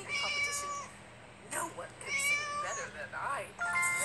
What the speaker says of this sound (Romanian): Deci, pisicuța e pe undeva pe aici și nu o găsesc.